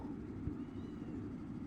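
Cats meow softly, faint and fairly close, against a low, quiet background hum.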